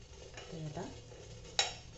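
A spoon stirs white chocolate melting in a bowl set over boiling water, soft close scraping with one sharp clink against the bowl, quiet overall.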